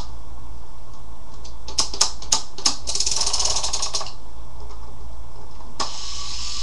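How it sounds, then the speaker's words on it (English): Someone winds up a wind-up gravity infusion pump for immune globulin, producing a series of quick ratcheting clicks and a brief mechanical whir, close and clear, with no talking. "It's basically what they call a gravity pump. You gotta wind it up like this"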